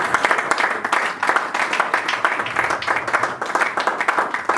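A church congregation applauding the Lord, steady loud rhythmic clapping from a crowd that fills the room without a break.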